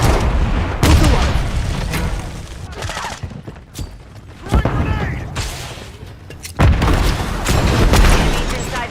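Heavy booms from a Semtex grenade blast in a first-person shooter match, with bursts of gunfire around them. The explosions come in loud, close surges between quieter gaps, and voice callouts run over the top.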